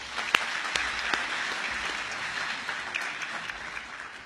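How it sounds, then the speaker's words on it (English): An audience at a DXN company business gathering breaks into steady applause, a dense wash of many clapping hands, with a few sharper individual claps standing out near the start, holding evenly throughout. "Give a round of applause to DXN,"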